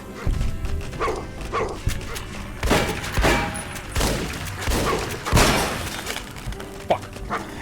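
Rapid gunfire from the video game Fallout: New Vegas, loud bursts and sharp shots crowding one another with breaking, shattering impacts.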